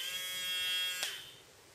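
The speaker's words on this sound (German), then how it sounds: "Ich habe hier so einen alten Ventilator umgebaut" An old electric fan motor converted into a twister for making a pike fly-fishing leader, a steady close electric whine with a harmonic hum that stops abruptly about one second in, leaving a faint fading tail.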